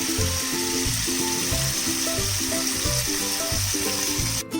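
Chilli chicken frying in a pan with soy sauce, a steady loud sizzle with faint rhythmic stirring scrapes throughout, no talk.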